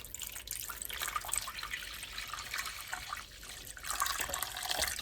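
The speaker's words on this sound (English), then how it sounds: "So I'm going to pour this not on the meat, but around the meat." Low-sodium store-bought broth poured around pork in a pan, a steady splashing, hissing pour of liquid that carries on for about five seconds and swells louder near the end, with no voices.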